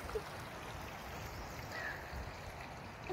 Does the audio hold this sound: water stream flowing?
yes